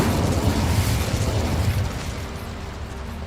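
The Incendio fire spell in Hogwarts Legacy erupts as a loud, roaring burst of flame, then fades gradually over a few seconds, with no speech.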